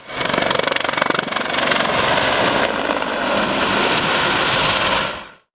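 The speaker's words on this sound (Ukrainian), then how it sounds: "вертольоти армійської та морської авіації, які першими нанесли удар по умовному противнику" Army and naval aviation military helicopters during the Sea Breeze 2016 multinational amphibious exercise, a loud, continuous rotor thudding and turbine roar close by, holding steady for several seconds before cutting off.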